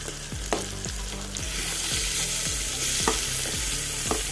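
Mixed vegetables for a chapati curry tossed into a hot pan and sautéed, a loud steady sizzle carrying repeated rhythmic stirring scrapes and knocks, with the frying hiss swelling as the vegetables go in.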